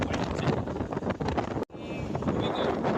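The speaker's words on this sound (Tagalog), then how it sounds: "napakalakas ng hangin" Strong wind over Laguna Lake in the Philippines buffets the microphone with a steady, roaring rumble, broken only by one brief gap, with faint distant engine-like noise underneath.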